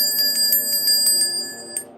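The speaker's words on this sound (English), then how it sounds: "Where's my bell?" A small hand bell rings in a quick series of bright, clear strikes, seven or so in a row, then a pause and one final ring, close and loud with a faint low hum beneath.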